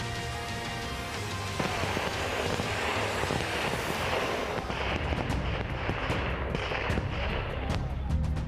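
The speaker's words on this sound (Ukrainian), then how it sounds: "Його зустрічають шквальним вогнем." Continuous rattling bursts of heavy gunfire during a border guard military exercise, loud and dense, with sharper cracking shots stacking up in the second half amid wind noise.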